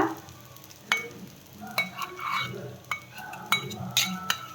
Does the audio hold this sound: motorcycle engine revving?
no